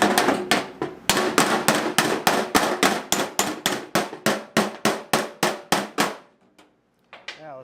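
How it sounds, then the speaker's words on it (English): A rapid series of about twenty sharp metallic hammer blows on a thin sheet metal panel, evenly spaced and loud up close, each ringing briefly before the next, then stopping with a faint clink afterward. "I'm gonna hammer this one up here."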